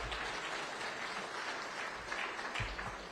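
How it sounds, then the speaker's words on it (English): A live audience in Riviera Beach giving a sustained round of applause to armed forces veterans, dense even clapping throughout with a few brief low thumps. "please just give yourselves a round of applause and thank you for your service"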